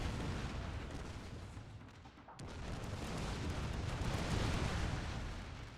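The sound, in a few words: musket volleys and gunfire in Shogun 2 Fall of the Samurai video game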